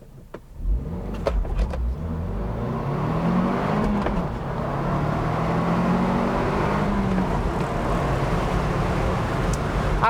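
2021 Ford Bronco 2-door with a manual transmission, launching hard from a standstill and accelerating 0 to 60. The engine roars loud and close, building steadily with an interior drone and road noise throughout, and no talk.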